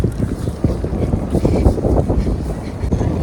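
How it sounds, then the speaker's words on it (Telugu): Heavy wind at the University of East London buffets the microphone in loud, thumping gusts, rumbling continuously for a few seconds with no voices. "ఫుల్ విండ్ ఉంది."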